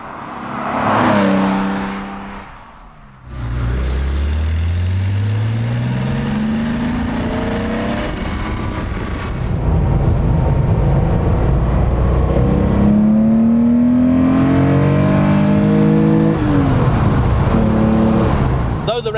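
A Porsche 911 Rennsport Evo S restomod engine revs up and down toward a 7,000 rpm redline, climbing through the gears with a loud, sustained roar and brief dips between shifts.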